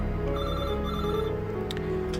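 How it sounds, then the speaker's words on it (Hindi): A telephone bell ringing indoors, a fairly quiet electronic trill with repeated tonal pulses and soft background hum. "तभी फ़ोन की घंटी बजी।"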